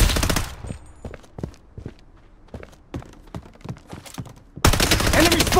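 Rapid gunfire in the shooter game Project Bloodstrike, loud bursts at start and end framing a middle of scattered sharp single shots and footstep-like thuds, up close.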